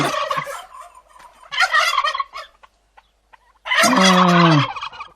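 Loud, close turkey gobbles in three rattling bursts separated by pauses, the last one longest and most tonal.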